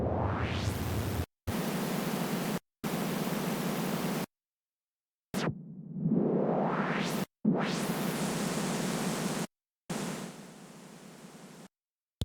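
Bursts of synthesized noise start and stop in short blocks separated by silences, with some bursts sweeping upward as a filter opens.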